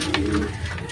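A racing pigeon coos close by, soft throaty calls over a steady low background rumble.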